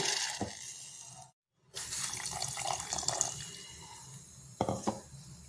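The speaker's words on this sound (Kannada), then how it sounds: "ನೀರು ಮಿಕ್ಸಿ ಜಾರಿಗೆ ಹಾಕ್ಕೊಂಡು ಹಾಕ್ಕೊಳ್ತಾ ಇದ್ದೀನಿ" Water runs steadily into a mixer jar, a broad rushing pour with a brief break partway through and a couple of clinks near the end.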